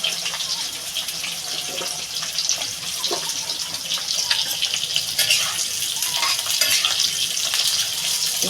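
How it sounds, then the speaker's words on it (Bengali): Drumstick pieces (sajne data) frying in a pan for a Bengali shukto, with a loud, continuous crackling sizzle and occasional stirring scrapes throughout. "এবার আমি সজনে ডাটাটা ভেজে নেবো"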